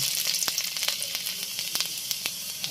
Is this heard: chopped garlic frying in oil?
yes